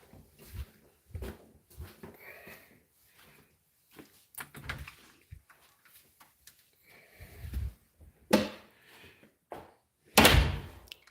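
Scattered clunks and thuds from a door mechanism being unlocked in a video game, including a sharp slam near the end, separated by short quiet gaps.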